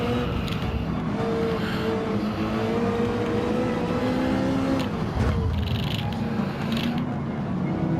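Race cars, among them a Porsche and an AMG, compete in a Gran Turismo video game. A steady, loud engine drone rises in pitch and then drops sharply partway through as a gear changes, with other engines whining close behind.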